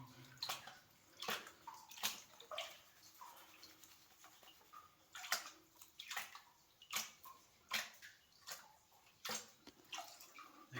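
Water sloshes in a gold pan as black sands are worked down, repeated close swishing pulses in a fairly steady rhythm, quiet and alone.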